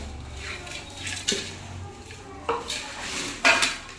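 Bhel ingredients get mixed in a bowl, with a few bright metallic clinks and scrapes of a spoon against the dish over a quiet background, spaced irregularly and close by.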